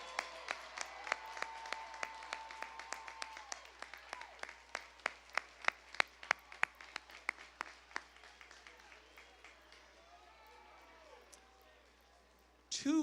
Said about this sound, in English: please rise so that we may applaud and celebrate you